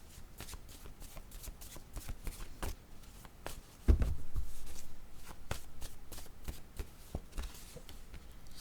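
Tarot cards shuffled and drawn close up, with soft riffling and rapid papery flicks and taps, and one louder thump midway.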